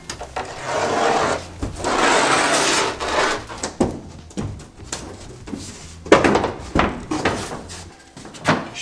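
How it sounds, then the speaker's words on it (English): A knife scrapes and rasps through sealer between two plywood lining panels, in repeated close scraping strokes broken by short gaps and a few sharp knocks. "there is sealer that's between the two plywood panels, so we need to cut that with our knife"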